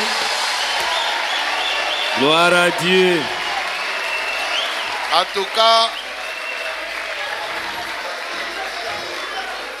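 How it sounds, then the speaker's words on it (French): Church congregation applauding during a worship service, steady broadband clapping running through the whole stretch while voices speak and sing over it. "Applaudissons encore très fort."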